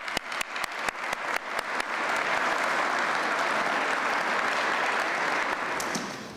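An audience at a 2015 State of the County Address welcomes Chairman Jason Peters with applause that starts as a few scattered claps, swells into sustained loud clapping from a large crowd, and then fades at the end.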